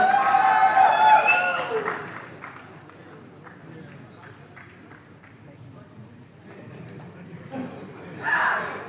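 Applause from an audience at a 2022 corporate awards event as people come on stage, a spread of clapping at moderate level that swells and fades, with a brief tonal passage at the start.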